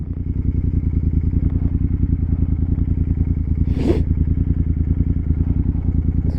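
A motorcycle engine idles and burbles close by in a steady rapid chug, with crackles and pops running through it and one brief louder burst near the middle, and no talking.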